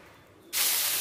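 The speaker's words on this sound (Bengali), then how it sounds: "আর সামান্য তেলেতেই বাকি বড়াটা ভেজে নেব" Jute leaf fritters dropped into a little hot oil, the pan bursting suddenly into a loud, steady sizzling hiss after a quiet moment.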